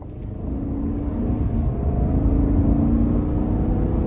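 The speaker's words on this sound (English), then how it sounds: "And I love the exhaust here." A 2024 GMC Yukon Denali Ultimate on the road, its engine and exhaust a steady low rumble that swells slightly as the SUV accelerates, heard from inside the cabin with no talk.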